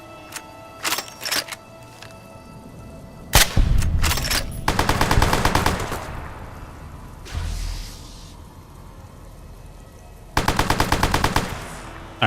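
Gunfire in Fallout New Vegas, The Lonesome Road: sharp single shots early on, then loud rapid automatic bursts in several separate volleys with short quiet gaps between them.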